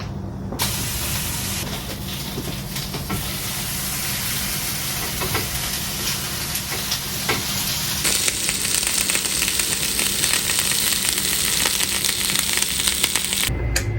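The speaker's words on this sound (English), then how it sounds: "Meanwhile, the veggies are roasting." Tomatillos and poblano peppers roasting give a loud, steady close hiss and sizzle that runs unbroken throughout, with a faint low hum beneath and no speech.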